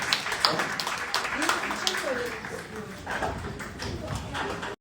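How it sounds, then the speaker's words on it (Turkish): Steady audience applause fills a school auditorium during a talk event in New York, a dense crowd clapping at an even loudness for about five seconds, with faint voices murmuring underneath. "Alkışlar Reşit Galibe."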